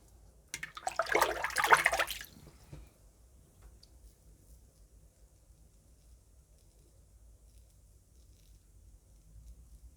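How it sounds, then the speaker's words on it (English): Running water splashes briefly as a face is rinsed after a wet shave with a stainless steel safety razor, a short close burst of about two seconds followed by quiet room tone. "Rinse off my face."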